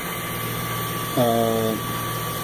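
An Mk8 3D printer runs an auto-level job on a Sanguinololu board: a steady electrical hum and whine, then a brief rising tonal stepper-motor whir for about half a second before the hum continues alone.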